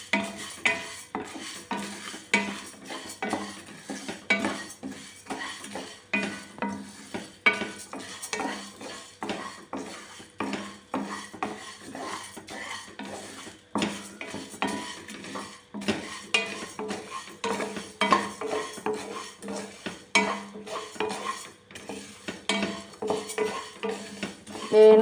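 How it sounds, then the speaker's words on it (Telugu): Whole spices such as cardamom and cinnamon stirred and dry roasted in a pan, a steady light scraping and rattling of a utensil against metal that keeps going throughout, quiet and close. "యాలకులు, చెక్క అన్నిటిని కలిపి వేయించుకుందాం దూరగా"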